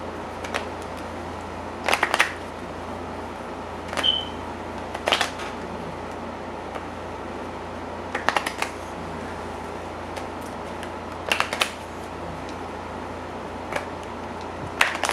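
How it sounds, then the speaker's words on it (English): Playing cards are shuffled during a card reading, in short riffling bursts repeated every few seconds over a quiet room hum, with no voices. "Shuffle the cards 7 times and cut them into 3 piles."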